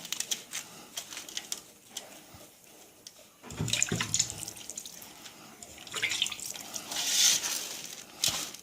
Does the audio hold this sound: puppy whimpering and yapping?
no